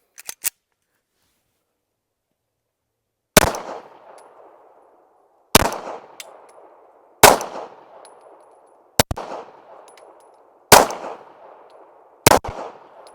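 Six sharp, well-spaced pistol shots from a Caracal Enhanced F fired with Winchester steel-case ammunition at a range, each crisp crack trailing into a ringing echo, with faint metallic clicks at the start.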